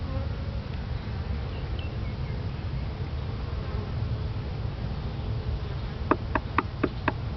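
Honeybees in a 10-frame Langstroth hive give a steady, close insect hum throughout, with a short run of sharp taps near the end.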